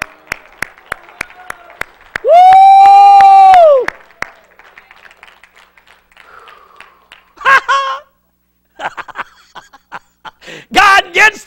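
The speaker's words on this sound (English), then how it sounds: "Give the Lord a hand clap and a shout." A church congregation claps and shouts: scattered sharp hand claps, then a long, loud sustained vocal shout, followed by short bursts of voices and more claps.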